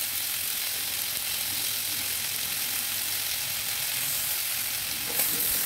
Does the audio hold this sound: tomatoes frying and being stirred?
yes